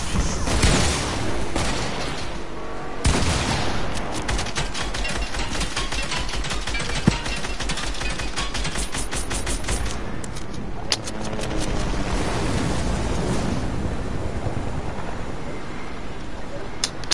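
Gunfire in Fortnite during a team battle, repeated shots and explosive bursts running throughout amid dense game action, with people talking over the chaotic mix.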